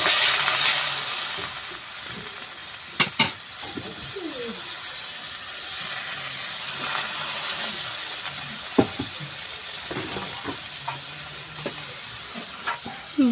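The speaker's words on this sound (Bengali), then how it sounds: "এরকম লাল লাল করে ভাজা হয়ে গেলে এবার কিন্তু একটু ঝোল দিয়ে দেব সেদ্ধ" Tangra fish fry in a pan with cauliflower, giving a continuous sizzle broken by occasional sharp utensil scrapes and clicks as the pieces are stirred.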